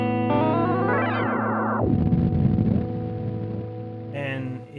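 An electric guitar runs through a Polarbear Effects Young Hearts v2 pedal with shifting steps set to 10, producing choppy, stepped pitch-shifted tones that sweep and warble with distortion and chorus-like shimmer, close and sustained.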